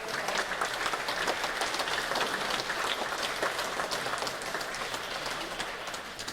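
An audience's sustained applause welcoming 99-year-old Korean War veterans at a patriotic prayer meeting, a dense steady clapping throughout that fades slightly at the end.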